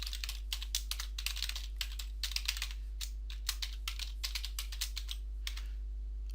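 Fingers type a Xero username and password on a computer keyboard, a quick close run of key clicks in bursts with short pauses, over a low steady hum.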